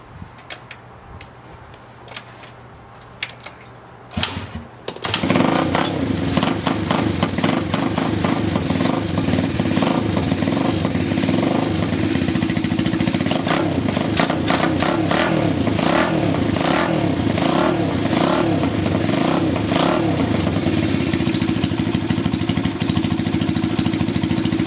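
A rebuilt Honda XL125 motorcycle engine starts after a few seconds of quiet and then idles loudly and steadily close by, with a busy mechanical clatter and no one speaking.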